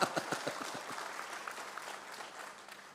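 Church congregation at a sermon breaking into brief applause, a quick burst of clapping that fades within a few seconds, fairly faint and distant.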